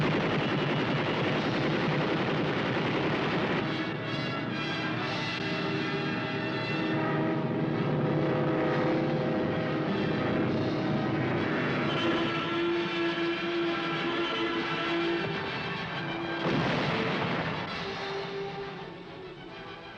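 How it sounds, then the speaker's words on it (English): World War II aircraft engines drone over the North African desert battlefield amid bursts of machine gun and cannon fire, a dense, loud, continuous wartime soundtrack with sustained engine tones rising and falling throughout. "British air power blasted them from the skies."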